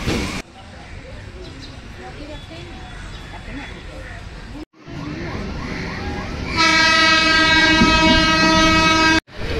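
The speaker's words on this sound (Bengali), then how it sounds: "এই আমাদের পিছন দিয়ে বিডি বাগ লোকাল যাচ্ছে" A Kolkata Circular Railway local train rumbles past nearby at Bagbazar with rattling wheels, then a loud, sustained horn blares; voices murmur in the background.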